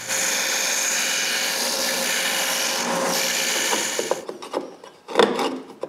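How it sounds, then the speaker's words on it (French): A steady, rough rasp of a sander on the edges of a wooden fishing-rod holder fills the first four seconds, then stops, leaving a few scattered knocks and scrapes. "Il faut tout sabler le contour."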